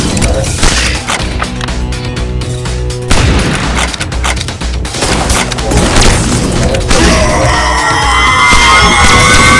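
A grenade blast and rapid gunfire ring out in the Evolution: Battle for Utopia video game, loud overlapping shots and booms in dense bursts with distant shouting and crowd noise.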